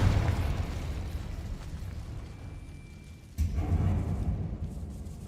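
A Confringo fire spell in Hogwarts Legacy bursts with a low rumbling explosion and a sudden sharp pop partway through, over a dense roaring background in a catacomb setting.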